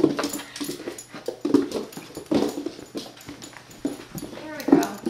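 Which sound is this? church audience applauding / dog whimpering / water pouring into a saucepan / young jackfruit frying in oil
dog whimpering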